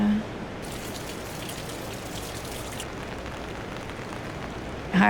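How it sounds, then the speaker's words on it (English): Heavy rain pours steadily at night during a paranormal investigation, a dense, unbroken hiss of downpour close by that carries alone, without voices, from start to finish. "Of course, the rain comes down harder."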